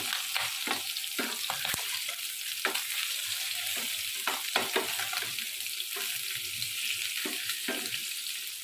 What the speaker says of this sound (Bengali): একদিকটা ভাজা হয়ে গেছে এবারে উল্টে নিলাম হালকা করে ভাজা হবে বেশি ভাজা হবে না